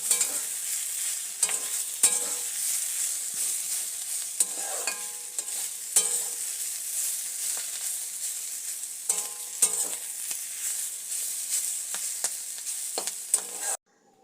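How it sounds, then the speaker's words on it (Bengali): A spoon scrapes and stirs neem leaves and beans in a hot pan, repeated clinks and scrapes over a soft steady sizzle, close and fairly loud, with no voices. "এইবার নিম সিমটা খুব ভালো করে মিশিয়ে নেবো"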